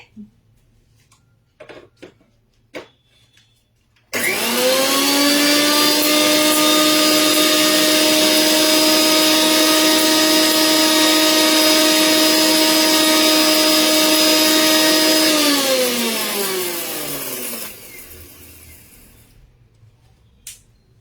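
A grinder grinding normal and black salt starts abruptly and runs as one loud, steady electric motor whine for about eleven seconds, then winds down with a falling pitch, with a few faint clicks before it starts.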